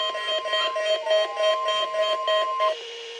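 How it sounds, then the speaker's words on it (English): A NOAA weather radio warning alarm sounds as a loud, steady electronic tone with a pulsing warble for nearly three seconds, then drops to a quieter, lower hum. "This is a test of the NOAA weather radio warning alarm."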